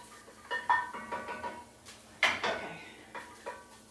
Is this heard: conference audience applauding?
no